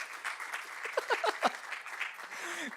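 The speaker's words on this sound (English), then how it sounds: "golf clap because Keith's code isn't crap" A small workshop audience gives a soft, brief golf clap, a handful of light scattered claps close by, with a few voices murmuring and chuckling around them.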